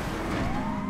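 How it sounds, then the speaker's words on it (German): An ambulance siren in the GTA Online video game, a short rising wail over a dense car engine drone, fairly close and loud. "Aber das ist ein Krankenwagen."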